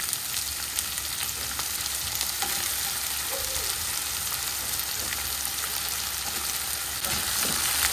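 Onions with curry leaves, green chillies and tempering spices frying in a pan for a Sri Lankan style carrot cabbage milk curry, a steady close sizzle with faint stirring scrapes throughout, no talking.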